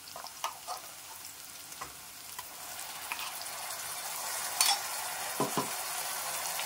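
Ginger garlic paste with a pinch of rock salt sautés in a pan for beetroot salna, a steady close sizzle with occasional soft clicks and scrapes of stirring, no voices.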